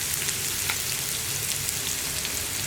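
Sliced onions sizzle and crackle steadily in hot oil in a pan with curry leaves, a dense, even frying hiss with no talk.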